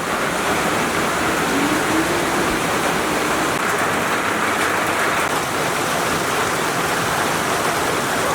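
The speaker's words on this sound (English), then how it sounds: "It just keeps raining and raining." Heavy rain pours down in a steady, dense hiss that holds constant throughout, loud and close, with no voices.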